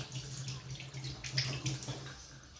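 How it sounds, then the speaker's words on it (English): Hands being washed under a running kitchen tap after handling raw meat, a soft steady stream of water with light splashing, fairly faint and close. "then I'll wash my hands first, because I've touched raw meat"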